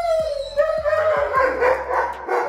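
Several dogs bark in short, excited bursts, a rapid uneven series of close, loud yaps with whining in between, outdoors in a backyard.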